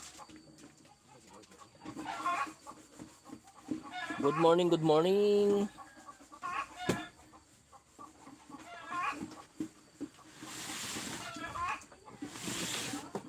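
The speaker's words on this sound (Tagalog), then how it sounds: "Di ba maingay sa umaga ano? Putak ng manok ano. Nag-iitlogan ng mga manok dito" Chickens cluck and squawk in loud bursts, one drawn-out cackle standing out, with quieter clucking and a person speaking at times.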